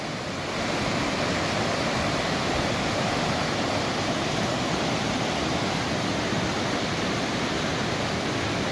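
Flash flood water at Anahola rushes in a loud, continuous roar that stays steady throughout, with no voices over it.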